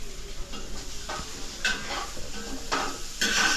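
Food stirred and sizzling in a pan in a village home kitchen, with intermittent scraping of a utensil against the pot and a soft hiss, close by and fairly quiet.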